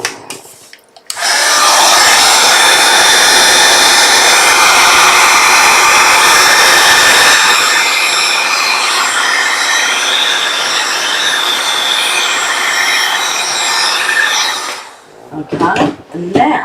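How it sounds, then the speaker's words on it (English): A hair dryer blows steadily over a stamped craft project, a loud close whooshing roar running for about fourteen seconds before cutting off, with brief handling noises after. "we're going to blow dry it again"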